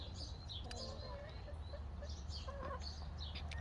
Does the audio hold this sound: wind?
no